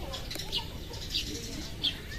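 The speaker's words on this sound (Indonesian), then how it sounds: "Kedengeran suara burung yang masih alami ataupun berada di alam liar" Wild birds call in a leafy village near Bekasi, with three short, distant chirps spaced evenly over a soft outdoor background murmur.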